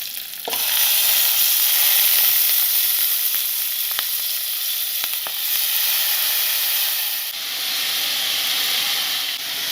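Drained soaked rice hits a hot pan with ghee and sizzles, a loud, steady frying hiss up close with a few faint clinks of stirring and no talk.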